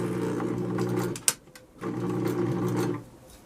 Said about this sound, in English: So now I'm inserting the sleeve, and I start at the center. I'm just going to overcast.